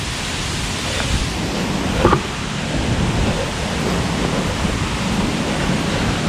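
Steady, full roar of rushing water from Tat Noi waterfall in Na Yung-Nam Som National Park, Udon Thani, Thailand, holding constant throughout, loud and close, with no pauses.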